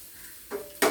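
Hot oil crackles softly, then two sharp bursts of sizzling flare up as spices and coconut hit the pan for tempering, close by and brief.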